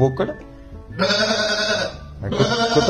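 A person imitates a goat's bleat in two drawn-out, wavering calls, after a short vocal sound at the start, close and fairly loud.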